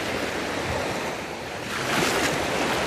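Muddy Black Sea surf rolls in at Anapa in the early morning, a steady wash of breaking waves with wind noise buffeting the microphone, swelling louder toward the end.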